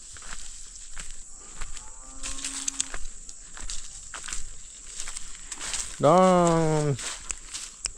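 A cow lets out a loud, drawn-out moo near the end, with a softer lower call earlier, over light rustling and background hiss.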